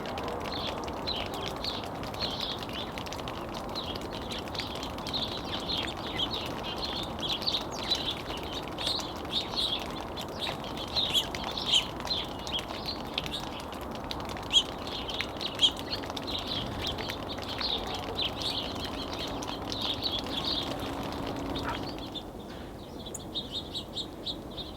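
Small birds chirp and tweet steadily around freshly filled garden bird feeders in winter, a continuous busy chatter of calls at moderate distance with no talking.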